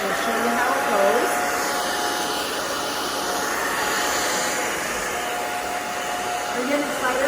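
A hair dryer blows steadily and loudly at close range for the whole stretch while a stylist dries a client's gray-blended hair in a salon, with no break in the airflow.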